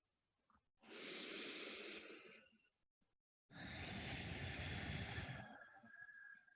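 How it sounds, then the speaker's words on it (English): Slow, deep breaths during a vinyasa yoga practice: two long, airy inhale-exhale cycles, each lasting about two seconds, heard close up and alone, with a brief pause between them. "I'm just taking 2 more breaths this way."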